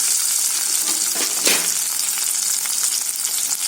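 Onion and garlic sautéing in a pan for vathal kulambu, a dense continuous sizzle with a brief stirring scrape partway through, close and fairly loud with no speech.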